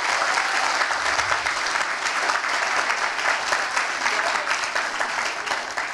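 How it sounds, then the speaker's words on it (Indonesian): Sustained applause from a stand-up comedy audience in a packed campus venue in Rawamangun, dense steady clapping throughout with no talking over it. "tepuk tangan boleh"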